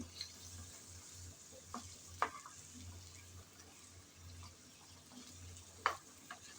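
A curry of bhadali leaves being stirred and mixed in a pan, soft sizzling under several distinct spatula scrapes and knocks, fairly quiet and close.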